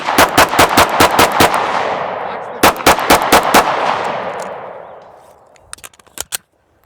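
Rapid strings of pistol shots at a recoil-control drill: about eight quick cracks, a short pause, then six more, each ringing out in a reverberant range, followed by a few fainter distant shots.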